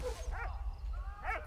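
Dog barking in the video game Valiant Hearts, two short yelping barks spaced about a second apart over a low rumbling game background.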